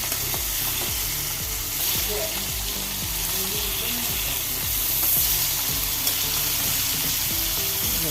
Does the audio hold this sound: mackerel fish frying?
yes